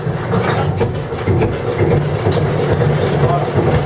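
The engine of a Dutch tjalk barge rumbles and chugs in a low, uneven rhythm, close by. Someone talks over it.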